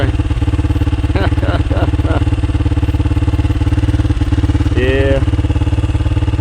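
A 1990 Honda XR250R dirt bike in a New Zealand forest holds a loud, steady, pulsing single-cylinder engine note at close range, with brief voices over it.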